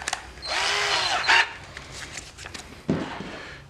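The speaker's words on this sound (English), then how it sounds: "it's kind of goofy running this drill with the battery, but it gives me plenty of power." A cordless battery drill driving Torx screws into a budget camper's floor and wall framing whirs in a sustained close burst, then a short second spin and a brief later grab, with quiet pauses between.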